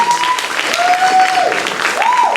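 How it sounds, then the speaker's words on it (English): Loud audience applause at a cultural center event, a continuous clapping roar with faint tonal sounds ringing over it. "Let's give them another round of applause"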